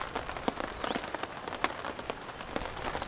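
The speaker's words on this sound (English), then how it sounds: "Camping in the rain, everyone." Steady light rain falling around a forest campsite, dense patter of drops with sharper individual taps on nearby surfaces, continuous and close, with no talk.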